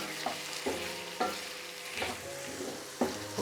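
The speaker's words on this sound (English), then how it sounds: "I'll keep the flame high and I'll just let it fry for a while" Squid masala frying on a high flame makes a steady close sizzle, punctuated by regular scraping knocks of a spatula stirring the pan, with no voices.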